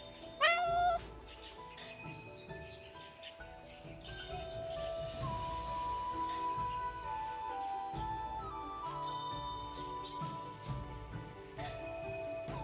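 A cat meowing insistently at a temple shrine in the game Love and DeepSpace, one sharp meow near the start followed by softer meows over quiet ambient music.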